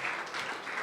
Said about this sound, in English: Give another round of applause for them.